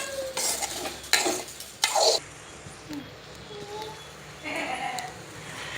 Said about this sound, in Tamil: இப்படி நல்லா கிண்டி விடணும்.